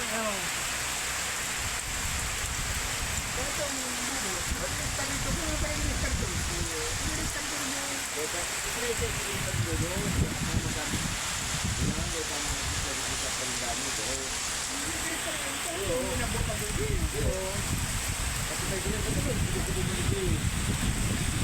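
Heavy rain pours down steadily in a rural spot by an old irrigation pipe, a dense continuous hiss with voices talking intermittently underneath.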